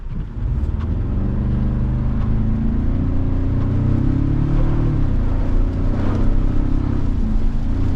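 A 2024 Toyota Tacoma TRD Sport 4x4's turbocharged four-cylinder engine revs up and pulls hard, a steady loud drone that climbs in pitch as it accelerates, with no talking.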